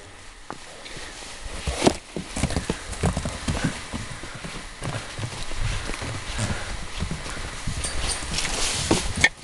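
A donkey moves about on its hooves, giving a steady run of close, uneven clip-clop steps against a rough outdoor background.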